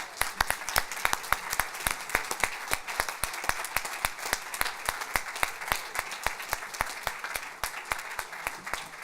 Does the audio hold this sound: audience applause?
yes